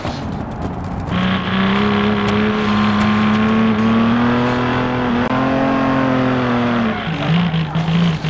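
Race car built in Automation for a 24-hour Lemons race, driven in BeamNG.drive, its turbocharged engine droning loudly at steady high revs with shifting pitch, faint scraping from the diffuser and a brief drop near the end.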